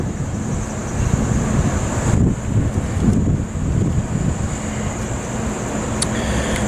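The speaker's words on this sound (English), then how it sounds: "feel the soothing wind" Wind gusting across a rooftop, a loud continuous roar buffeting the microphone with rushing swells and no voices.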